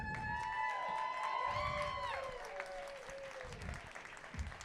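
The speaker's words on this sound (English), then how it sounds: "All right, nice round of applause for these guys." Audience applause for student design winners from Warren Tech at a Never Summer event, steady clapping across the room with tonal chirps and faint voices mixed in, fading slightly toward the end.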